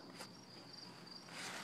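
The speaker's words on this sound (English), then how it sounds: "I'm going to be sleeping with grasshoppers tonight." Chirping of grasshoppers at night beside a hammock outdoors, a faint continuous high trill with a few brief brighter pulses, distant and alone with no talk.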